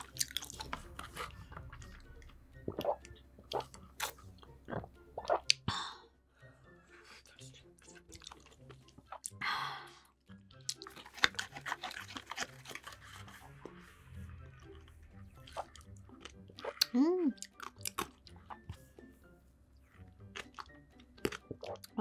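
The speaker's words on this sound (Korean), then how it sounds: "우선 펄 추가한 그릭 요거트 밀크티" Greek yogurt milk tea with added tapioca pearls is sipped and chewed close to the mic, with soft slurps, wet drips and squishy chewing between quiet pauses.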